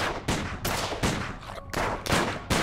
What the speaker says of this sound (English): Can't we just shoot them?